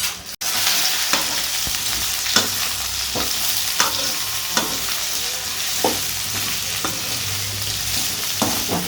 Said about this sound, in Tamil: இந்த மாதிரி பாவக்காயெல்லாம் எடுத்து போட்டுக்கோங்க. அதில் வதக்கணும் எண்ணெயில்